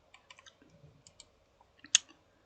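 A computer mouse clicks the reset button in ArduPilot settings: a few faint, soft clicks spread out, then one sharper, louder click near the end, close and quiet.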